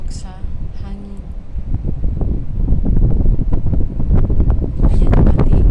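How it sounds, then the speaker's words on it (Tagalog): Strong gusty afternoon wind buffets the microphone with loud, rumbling bursts that build and persist, while a person speaks briefly at the start. "Tungod sa kakusog sa hangin."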